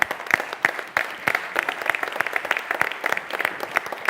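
An audience at a startup competition claps for the two finalists, a moderate crowd with individual claps standing out in an uneven rhythm.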